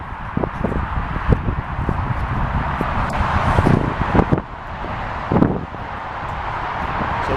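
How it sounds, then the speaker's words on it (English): Strong wind buffets the microphone on a motorway bridge above the M60, a continuous roar with rustling and gusts, and faint traffic rumbles underneath. "You might not be able to hear me because it's very windy."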